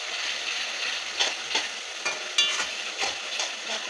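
Ginger garlic paste fries in a pan for a country chicken curry, a soft, steady sizzle broken by several sharp scraping stir strokes at a close, moderate level.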